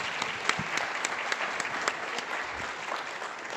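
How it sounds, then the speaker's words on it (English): At a student honors award ceremony, an audience gives itself a round of applause, steady dense clapping with distinct individual claps popping out close by throughout. "I think you guys should give yourselves a round of applause"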